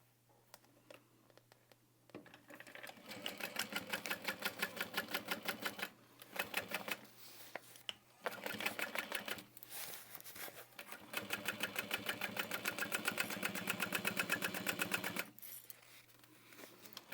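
A sewing machine stitches a Bella bucket bag in fast, even bursts of needle clatter, running for a few seconds, pausing briefly, then running again in a longer steady straight seam, close and fairly loud.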